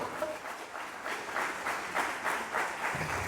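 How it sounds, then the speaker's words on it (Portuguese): A church congregation breaks into sustained applause during a Pentecostal-style sermon, a dense, steady wash of many hands clapping that swells in waves over a few seconds. "Deu vontade de aplaudir, aplaude."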